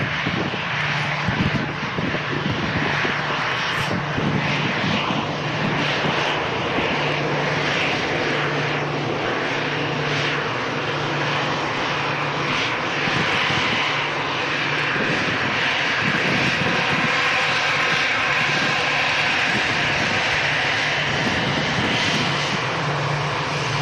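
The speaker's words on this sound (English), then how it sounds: "EasyJet arriving in from Milan" An easyJet airliner arriving from Milan roars past, a loud, sustained engine rumble and whine that swells and shifts over roughly twenty-four seconds with no talking.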